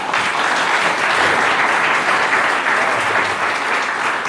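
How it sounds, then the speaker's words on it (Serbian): Sustained, loud applause from a seated lecture audience, dense and steady throughout with no talking. "Ja mislim da gospodin Nađfej zaslužuje jedan veliki aplauz."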